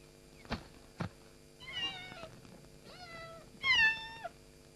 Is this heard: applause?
no